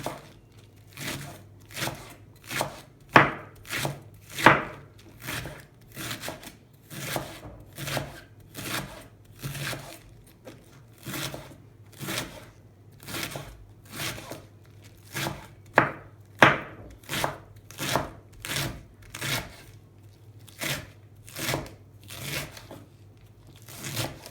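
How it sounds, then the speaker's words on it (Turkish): A knife finely chops green onions on a cutting board, quick regular taps repeating throughout with brief pauses, close and clear. "Şimdi bunları çok ince ince kıyıyorum."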